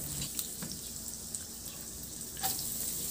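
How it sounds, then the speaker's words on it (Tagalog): Garlic frying in melted butter in a pan, a soft steady sizzle with a few faint clinks and stirring sounds, close and fairly quiet. "Tunawin lang habang pinapatunaw natin yung butter, ilagay ko na rin yung bawang."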